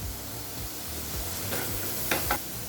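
Carrot and capsicum sautéing in a pan with a steady, soft sizzle, stirred now and then, with a couple of brief scraping clinks near the end.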